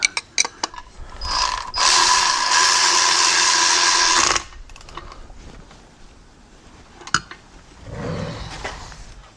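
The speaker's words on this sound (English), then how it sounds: "you can always use it like a ratchet to apply that extra pressure" A ratchet tightens bolts on the water pump of a 1986 Mercury 90hp outboard, with a few close clicks and then a loud sustained run of rapid ratcheting, followed by quieter taps and handling noise.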